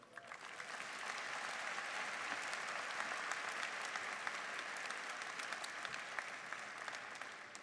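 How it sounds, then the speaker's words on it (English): A commencement audience at Saint Louis University's 2018 midyear ceremony applauds, a dense, steady wash of clapping from many hands that holds evenly for several seconds without speech. "Could we give a round of applause to Professor Nancy Bell and Mr. Troy Hargrove?"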